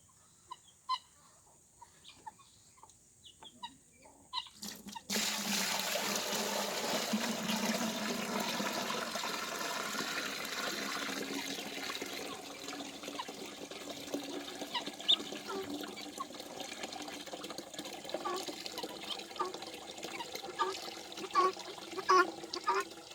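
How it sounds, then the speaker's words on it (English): Water is poured off settled clay sediment into a container during DIY clay extraction, a steady rushing, splashing pour that starts abruptly after a few seconds of quiet handling noises and continues throughout, close and moderately loud. "So I will pour the water off into here, and I will stop when I reach the sediment."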